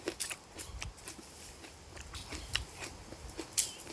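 Someone bites and chews raw storage onion, giving a series of close, crisp crunches at an irregular pace, fairly quiet, with no talk.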